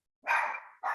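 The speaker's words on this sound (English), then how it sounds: "That's my dog." A dog barks twice up close, a loud sharp bark followed by a second one after a short pause.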